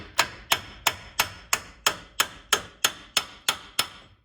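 Socket tapped with a hammer to seat the rear wheel bearing center race on the axle of a 1971 MG Midget: eleven evenly spaced sharp metallic knocks, close and alone.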